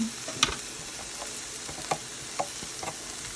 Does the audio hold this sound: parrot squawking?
no